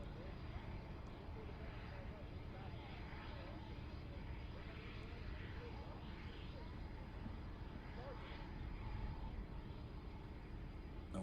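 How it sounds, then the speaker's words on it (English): An F/A-18 Hornet jet taxiing at the Farnborough International Airshow gives a steady, loud broadband roar that fills the whole stretch, with a commentator's voice running over it. "And we go from one formidable aircraft to another one, again with a lot of noise, moving out onto the threshold."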